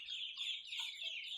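A white Indian Runner duck gives a short series of nasal, clucking calls, close and fairly clear for just over a second.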